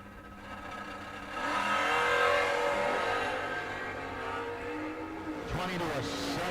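Drag race launch of a 1975 Dodge Dart Swinger and a 1967 Camaro, engines swelling into a loud roar that gradually fades while an announcer talks over the strip.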